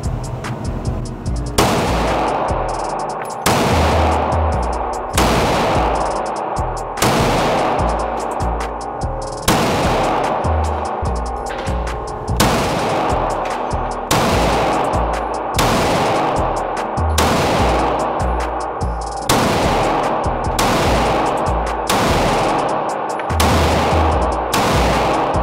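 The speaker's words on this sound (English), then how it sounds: "I'm shooting the bottom right." A Glock 19 MOS pistol fires at a shooting range, about a dozen loud, sharp shots in a fairly even rhythm, each with a short echoing tail.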